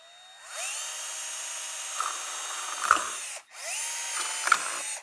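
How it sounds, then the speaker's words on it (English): A power drill whirs steadily, bores through a plastic vent on a Whipple supercharged E55 wagon with a brief grinding catch, stops, then spins up again for a second hole. "you have to drill a couple of little holes in the bottom of the vent"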